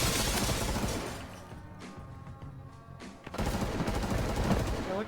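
Rapid automatic bursts from a bot firing through surfaces in Escape from Tarkov, loud and crackling with sharp impacts, easing briefly before another heavy volley of shots.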